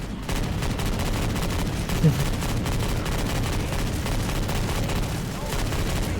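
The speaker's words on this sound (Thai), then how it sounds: "ปืนก็จะยิงแรงขึ้นแล้วก็ลั่นกระสุนที่ไวขึ้นนะ" Rapid gunfire in Left 4 Dead 2 on Expert difficulty, a continuous fast stream of shots over a heavy low rumble, loud and unbroken throughout.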